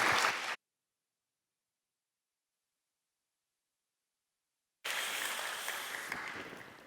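A church audience at a young adults' worship gathering bursts into applause for a pastor, a short burst of clapping followed by a long silence before a second, sustained wave of clapping and cheering.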